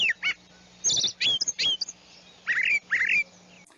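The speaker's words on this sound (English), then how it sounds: "So like the Downy Woodpecker, where you recognize it, it sounds like a woodpecker." A Downy Woodpecker in the Ottawa region of Ontario gives a series of sharp, high calls that slide downward in pitch, coming in short clustered bursts, clear and fairly close.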